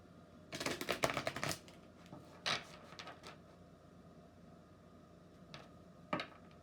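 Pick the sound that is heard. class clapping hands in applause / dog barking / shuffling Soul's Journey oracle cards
shuffling Soul's Journey oracle cards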